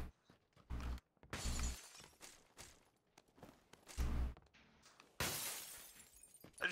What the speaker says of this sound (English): I jumped out the window, broke glass.